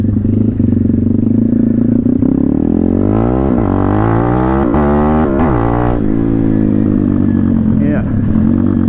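A KMXR 160 motorcycle engine revs hard, its pitch climbing and falling in repeated loud sweeps that dominate close up, with a steady idle rumble before and after.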